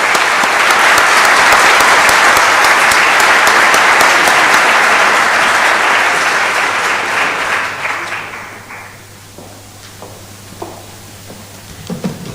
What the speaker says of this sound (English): I would like to ask you kindly for a big applause to our panelists.